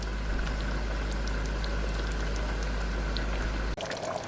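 Pot of cassava leaf soup simmering, a steady close bubbling and crackle with a low constant hum, until the sound cuts away near the end.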